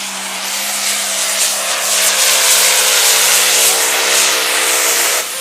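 A semi truck tractor named Bad to the Bone roars at a truck pull at the Rockwell, Iowa nationals, its engine building into a loud, sustained howl that swells and holds steady for several seconds without any talk.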